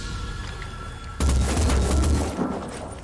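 Gunfire in the tactical video game Phoenix Point: a sudden loud burst of booming shots begins partway through, a dense volley of heavy reports lasting about two seconds before easing off, with quieter game ambience before it.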